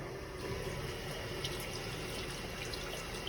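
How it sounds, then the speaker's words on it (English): Steady, faint trickle of liquid being poured down the sink drain of a Class-B RV during winterizing, a continuous wash of splashing with no voices. "Pour a little bit down here."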